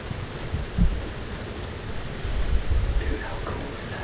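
Heavy rain pours down during a downpour outdoors, a steady broad hiss with faint low rumbles and small knocks, constant and close throughout.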